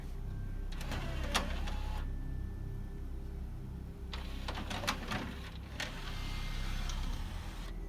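A dual Laserdisc/DVD player's tray mechanism whirs and clunks open after eject is pressed, with short motorized bursts near the start and a longer run of mechanical clicks and whirring later, over a steady low hum.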